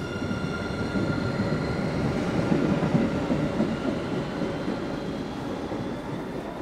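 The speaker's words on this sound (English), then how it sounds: "You can see the train going to downtown Boston on the other side." Electric commuter train on overhead-wire and third-rail lines near Revere Beach, Massachusetts, heading toward downtown Boston, rumbling past at a moderate distance with a steady broad roar and faint wheel clatter throughout.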